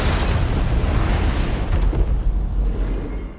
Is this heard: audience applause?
no